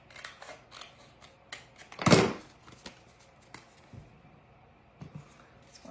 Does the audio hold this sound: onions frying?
no